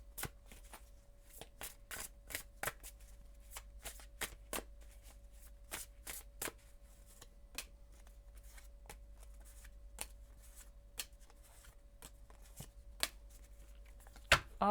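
Tarot cards being handled and shuffled on a table, a string of crisp, close snaps and light taps at an uneven pace, quiet throughout with no talking.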